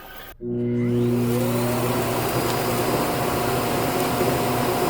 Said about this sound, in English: But right now, it's just on a vacuum cycle.